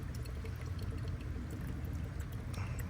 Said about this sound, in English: just pouring some coolant additive in